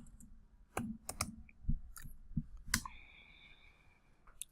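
Keys clicking as code is typed on a computer keyboard for a Raspberry Pi lamp project, a few sharp, separate taps at close range with quiet pauses between them.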